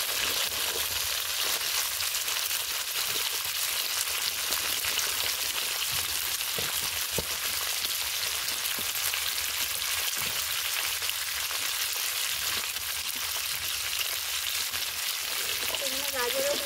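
Cauliflower and beans sizzle lightly in a pan with a steady, close crackle that never lets up. Occasional clicks and scrapes of stirring sit under the constant frying hiss.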